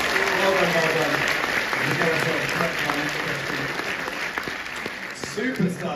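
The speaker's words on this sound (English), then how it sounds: "Give him a round of applause." An audience at the Stranger Things cast panel at Comic Con in Liverpool gives dense, sustained applause that fills the whole stretch at close range, with speech over the clapping.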